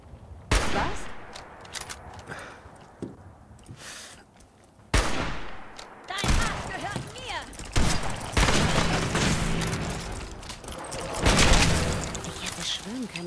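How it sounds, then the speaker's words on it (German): Bursts of gunfire in the video game Fallout 4, several sharp shots and rapid volleys scattered irregularly, some loud and close, with muffled booms between and someone talking faintly in places. "Ich schieß mal."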